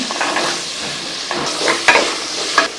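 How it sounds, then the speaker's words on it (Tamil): Beans and peas sauté in a pan, giving a soft continuous sizzle broken by several scraping stirs and clanks of a spoon against the pan. "காய் வந்து சும்மா ஒரு ரெண்டு நிமிஷம் வதங்கினா போதும்"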